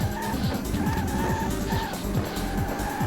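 A race car braking hard into a chicane in Le Mans 24 Hours, its engine note dropping in quick repeated downshift sweeps with tyre scrub over a loud steady roar.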